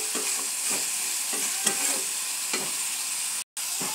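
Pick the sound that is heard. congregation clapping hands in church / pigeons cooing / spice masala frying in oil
spice masala frying in oil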